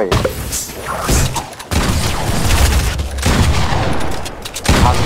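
Loud volleys of gunshots in a Fortnite match, with repeated bursts of rapid fire and heavy impacts broken by brief pauses, close and aggressive throughout.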